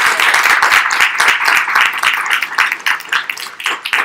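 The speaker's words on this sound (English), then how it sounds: "Give you all a round of applause." Audience applause at the close of a debate panel, a dense patter of many hands clapping loudly and steadily, thinning toward the end.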